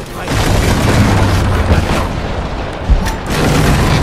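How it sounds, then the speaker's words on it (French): Grenade blasts and combat noise in the video game Rise of the Tomb Raider, a loud dense rumbling wash with a sharp boom near the three-second mark, with voices faintly mixed in. "Vas-y, tire des grenades."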